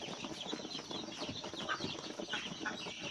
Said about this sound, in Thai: ไก่ไข่อายุสี่สัปดาห์นะครับ